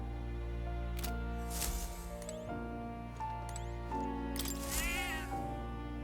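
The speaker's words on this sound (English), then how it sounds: "That's a good kitty." A cat meows in a video game, heard over steady game music with tonal layers, a few short cat cries rising and falling across the stretch, no voices.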